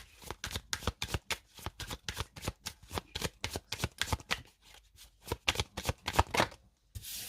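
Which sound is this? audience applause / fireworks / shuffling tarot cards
shuffling tarot cards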